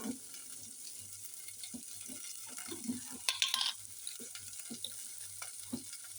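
Vegetables, including eggplant, sizzle steadily in a hot pan, with occasional scraping and stirring sounds and a brief louder hiss partway through.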